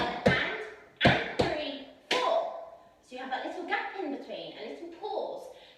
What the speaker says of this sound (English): So we've just finished our heel beats.